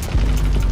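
A grenade blast in a tactical shooter video game lands as a single heavy, low boom that swells early and rumbles on through the short moment, close and loud.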